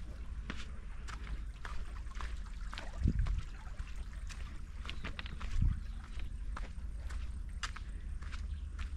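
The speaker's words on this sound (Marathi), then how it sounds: "फक्त पाण्याचा आवाज ऐकायला येते" Water flows with a faint, steady trickle in a quiet outdoor spot, broken by light repeated ticks and two soft thuds.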